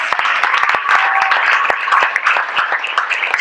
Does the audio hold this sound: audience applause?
yes